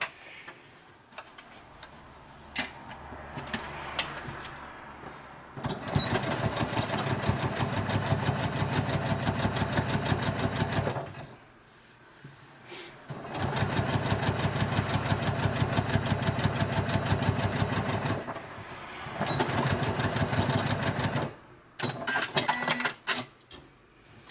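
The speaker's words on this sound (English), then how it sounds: "I'm just going to sew across there." A sewing machine stitching across the folded edge of a small make-up bag, running in steady rapid bursts of several seconds each, separated by short pauses, close and fairly loud with no talking.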